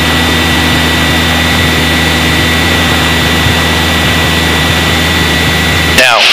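A light training aircraft's engine, set to 2,000 RPM during a flight lesson, drones loudly and steadily throughout, with a brief disturbance at the very end.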